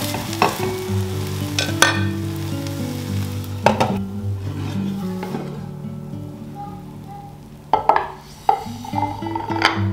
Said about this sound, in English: put it in the pan with a little bit of oil